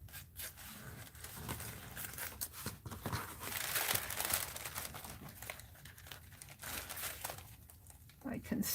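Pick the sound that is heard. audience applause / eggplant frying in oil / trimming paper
trimming paper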